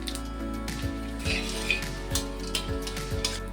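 Whole cumin, a bay leaf broken in two, cardamom, cloves and cinnamon pieces hit hot oil in a pan, giving a steady close crackling sizzle with scattered pops over a faint background hum.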